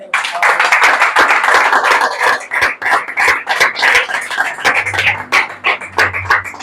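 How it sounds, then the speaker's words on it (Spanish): Hands clapping in a steady, lively run, loud and close, filling the whole stretch with sharp repeated claps over a faint low hum. "Voy a beber Gatorade y darle un aplauso al Señor."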